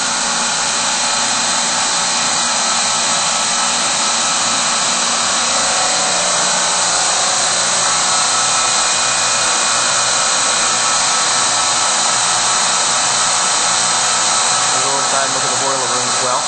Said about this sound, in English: So we have 2 compressors running right now.